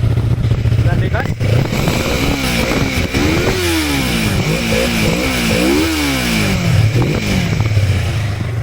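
A Yamaha R3 motorcycle revs repeatedly close to the microphone while standing, its engine note climbing and falling in several quick sweeps over a loud idle and settling back toward idle at the end.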